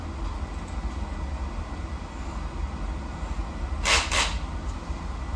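A furnace boiler runs in a home garage workshop, giving off a continuous broadband rumble that fills the space steadily, with a short louder burst of noise partway through and no one speaking.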